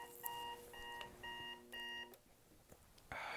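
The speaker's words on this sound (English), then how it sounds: "The alarm just went off." An alarm clock beeps in four quick bursts of repeated tones with short gaps between them, fairly close and clear over a quiet background.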